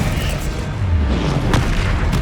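Spell explosions from Confringo and Bombarda in the Hogwarts Legacy video game, a dense continuous rumble of booms with a sharper burst near the middle, loud and close.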